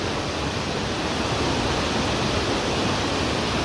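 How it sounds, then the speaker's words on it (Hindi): Rushing waterfalls pour through a valley village after monsoon rain, a loud, unbroken broadband roar of falling water that stays constant from start to finish with no voices. "इधर भरकी गांव में भी कई झरने फूट गए हैं"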